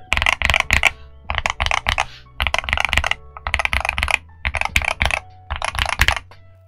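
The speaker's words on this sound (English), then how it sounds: "the stock sound of this keyboard is actually quite nice." Rapid typing on a Boyi66Pro HE 65% magnetic keyboard comes in several short bursts with brief pauses, each keystroke a deep, crisp clack up close.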